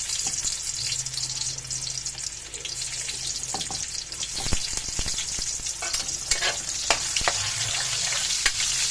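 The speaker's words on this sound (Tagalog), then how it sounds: "Mix natin guys sibuyas." Onions sizzle steadily in a hot pan while a spoon stirs and scrapes through them, with occasional sharper clinks and splashes over a constant close frying hiss.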